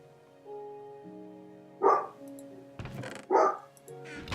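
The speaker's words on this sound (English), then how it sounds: "let me go see what the dogs are barking at" Real dogs bark twice in short, separate bursts over sustained electronic tones from Minecraft gameplay, moderately close and unaccompanied by talk.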